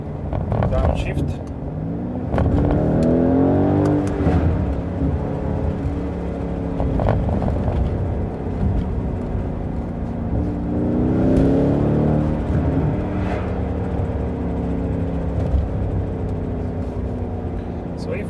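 A Mercedes GLC 63 S AMG V8 downshifts and accelerates, its engine note rising in two sweeping climbs with blips and a steady roar, while someone talks over it.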